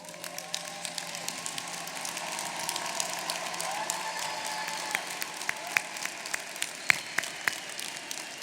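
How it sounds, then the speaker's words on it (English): Applause from a graduation audience at a 2017 university undergraduate commencement, a steady wash of many hands clapping at moderate level for several seconds, with a few sharper claps standing out near the end. "Give them a big round of applause."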